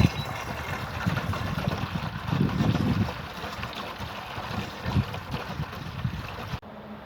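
Water is poured into the reservoir of a mobile chicken tractor, a continuous close splashing and trickling wash that swells briefly midway and stops abruptly near the end.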